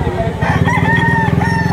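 A one-year-old rooster crows loudly and close by at a poultry auction of white streamer gamefowl, its drawn-out call rising over a steady murmur of crowd noise and other birds.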